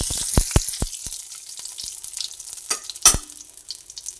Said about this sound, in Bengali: তেল দিয়ে এলাচ দারচিনি লবঙ্গ সবই দিয়ে দিলাম তেলের মধ্যে এটা ভাজা হচ্ছে